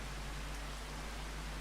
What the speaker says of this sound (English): Obviously with it raining